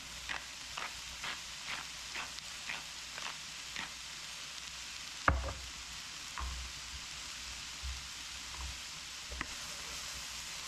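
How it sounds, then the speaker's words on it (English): Food being stirred in a pan with celery seeds and cracked black pepper: faint steady frying hiss with a series of soft rhythmic scraping strokes, then a sharper clatter and a few scattered stirs. "Give it another stir."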